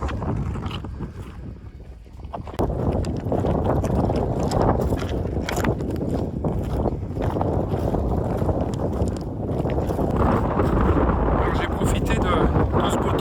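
Strong Mistral wind gusts buffet the microphone in loud, low roaring bursts that continue almost without pause, swelling and easing, in a desert-like area.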